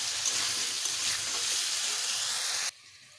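Potatoes seasoned with salt and turmeric fry in a pan for a breakfast dish, giving a steady, close broadband sizzle that cuts off abruptly near the end, with no voices.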